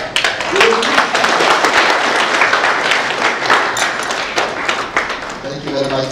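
A conference audience claps in a sustained, fairly close burst, with a voice speaking briefly over the applause near the start and again at the end.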